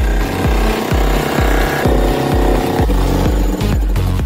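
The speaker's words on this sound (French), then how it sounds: "Enfin, marteau-piqueur. Maintenant, on va défoncer le mur." Jackhammer breaking through a classroom wall, a loud, steady mechanical din with a regular pounding pulse about twice a second, continuous throughout and no talking.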